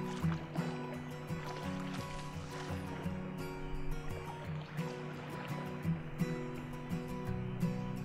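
Canoe paddled on one side on open water, soft dips and gurgles of the paddle over a quiet watery background, fairly faint, with no talking.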